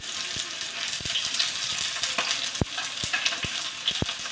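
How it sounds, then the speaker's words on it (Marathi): Two large onions with mustard seeds fry in a preheated kadhai for kande pohe, a continuous sizzle punctuated by several sharp spatula taps against the pan, no talking. "कांदा मोठे मोठे 2 कांदे टाकले."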